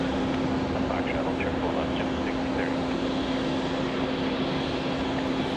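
An Airbus A321 departs JFK, heard as a broad, steady jet rumble with a persistent engine tone, and people talk over the noise from the observation deck beside the runway.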